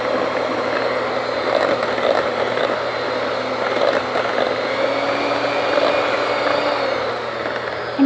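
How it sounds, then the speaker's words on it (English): An electric mixer beats low-carb chocolate chip muffin batter with a steady, loud motor whir and faint grinding that holds at an even level throughout, with no voices. "it's worth the extra effort to mix it a little bit longer to make sure it's really smooth and creamy"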